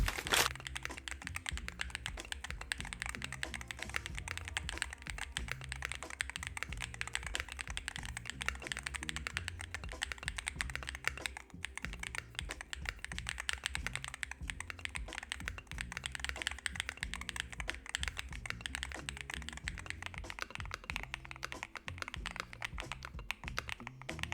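Typing on a Neo65 Sonic HE+ hall effect keyboard: a dense, continuous run of quick, crisp keystroke clacks at an even pace, close and fairly quiet, with no talk.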